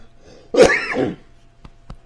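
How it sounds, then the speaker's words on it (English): A single harsh cough bursts out close by, followed by a couple of faint clicks in an otherwise quiet room. "I've had a little cough here"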